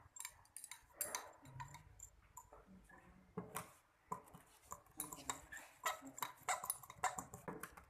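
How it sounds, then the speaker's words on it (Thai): A spoon clinks and scrapes against a container while stirring sodium hydroxide solution with water, giving irregular faint taps and rattles in a quiet room. "เติมน้ำกันลงปริมาณพอสมควรคนให้เข้ากันเนาะ"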